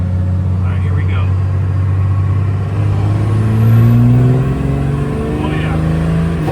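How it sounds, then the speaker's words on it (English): A diesel truck with upgraded Ducky 5x12 injectors on a 450 hp setup pulls hard in third gear, its engine drone rising steadily in pitch and loudness, heard from inside the cab with voices over it. "we're just gonna do a nice pull in third gear"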